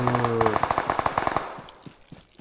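Rapid gunfire bursts in the battle royale game PUBG Mobile, a quick run of sharp cracks over a tonal game sound, fading into scattered shots, with no talk.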